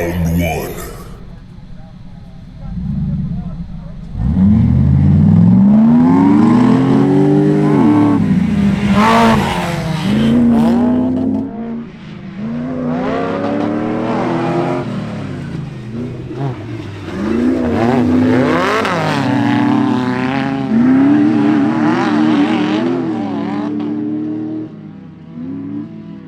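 A K20-powered Beetle and an LS-powered Ultra4 rock crawler race side by side on a dirt drag strip, engines revving hard and rising and falling through the gears, loud and close, under near-constant commentary voices.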